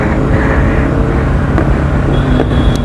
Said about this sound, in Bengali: এটা কিন্তু আমার বাইকের আওয়াজ।